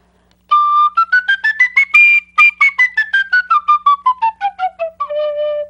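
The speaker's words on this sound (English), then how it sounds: "Your flutes, your recorders, your penny whistles, and here is one penny whistle." Penny whistle playing a quick run of detached notes that climbs to a peak and then descends step by step, bright and close, with no talking.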